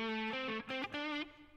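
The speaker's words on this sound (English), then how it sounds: "Then I've got the war horn," A distorted war horn guitar pedal effect produces a short burst of thick, buzzy, horn-like notes that bend and shift in pitch, loud and close with no talk.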